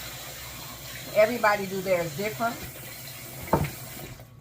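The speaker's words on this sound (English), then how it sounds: "First thing that I do is I wet this head in hot water." Hot tap water runs steadily from a faucet to soak a felt hat during hat making, a soft continuous hiss beneath a person talking.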